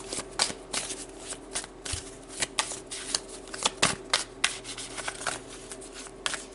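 A deck of tarot cards is shuffled and pulled up close, giving rapid papery riffles and soft slaps in quick irregular bursts, with no talk over them.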